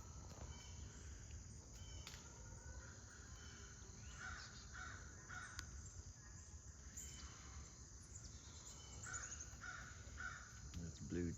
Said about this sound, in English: Crows are all over the place today